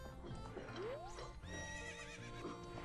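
Epona the horse whinnies in Zelda: Ocarina of Time, a bright rising neigh with clip-clop hoofbeats, game music and ranch sounds layered over it.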